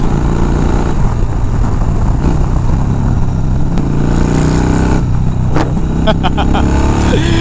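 A Harley FXR motorcycle cruising at highway speed, its engine a steady, loud drone with heavy wind roar throughout; the rider briefly talks over it near the end.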